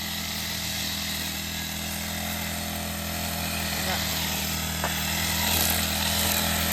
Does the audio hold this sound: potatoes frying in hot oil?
no